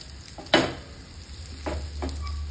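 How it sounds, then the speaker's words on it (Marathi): Homemade fish fingers fry in hot oil, a close, steady sizzle broken by a sharp clatter and a few quieter stirring knocks in the pan. "तर तेलाला उकळी फुटेपर्यंत किंवा 180 डिग्री सेल्सिअस होईपर्यंत फ्राय करायचं आहे."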